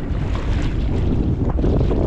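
Steady, loud wind buffeting the microphone, a continuous rushing roar with no voices.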